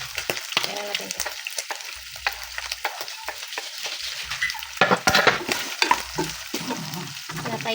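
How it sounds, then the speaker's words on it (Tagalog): Hot oil spitting and crackling in a pan of adobo na sitaw (Filipino string beans), a dense, steady sizzle with sharp pops and occasional clinks of a utensil against the pan, close and loud throughout. "nitausik yung mantika"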